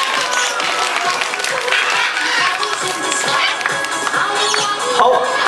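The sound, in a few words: audience applause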